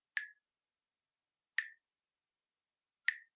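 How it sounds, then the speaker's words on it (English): Water drips from a tap in three sharp, isolated plinks spaced about a second and a half apart, with silence between them. "That's a very annoying sound of a tap dripping."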